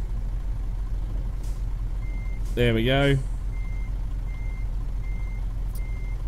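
A MAN F-series truck in Euro Truck Simulator 2 sounds its reversing alarm, a steady series of evenly spaced high beeps over a low engine idle, with a brief spoken remark just before the beeping starts.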